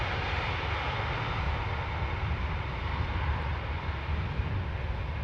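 A fixed-wing airliner arriving on the Polderbaan runway at Amsterdam Schiphol roars steadily at a distance, a faint, even engine rush that holds with no talk.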